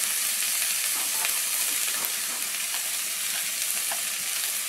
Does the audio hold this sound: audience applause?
no